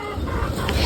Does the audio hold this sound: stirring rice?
no